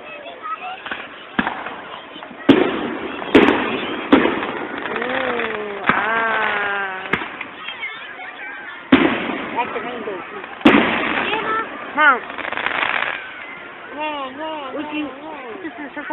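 Fireworks exploding at the Woodbury fireworks show: repeated sharp booms and crackling bursts at irregular intervals, loud and near, with people talking and calling out throughout.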